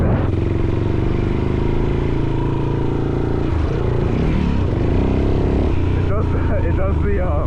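Yamaha XT350 motorcycle with worn clutch and tires riding over a dirt tabletop jump, a loud steady single-cylinder engine drone that dips and wavers as the throttle changes, with wind buffeting throughout.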